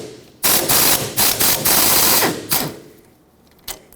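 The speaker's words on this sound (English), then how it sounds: "I'm going to hold the nut side with my wrench and put my impact on the bolt side." An impact wrench hammers loose the ball joint bolts on a 1995-2004 Toyota Tacoma in a few loud, close, rattling bursts. The bursts stop and start, then fade to quiet handling noises and end with a single clack.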